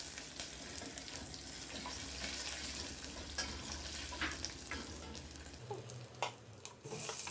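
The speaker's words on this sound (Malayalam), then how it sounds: "ഇനി ഇതെല്ലാം കൂടി ഒന്ന് ഇതിൽ നിന്ന് വഴറ്റിയെടുക്കാം." Dried red chillies and garlic sautéing in a pan for tomato chutney, a continuous sizzle with stirring clatter, some watery splashing sounds and a low hum that drops away near the end.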